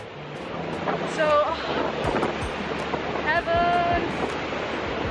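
Steady broadband wash of surf with wind noise at a beach in Seminyak, Bali, rolling continuously behind a voice that speaks briefly, plus a few faint chirping tones.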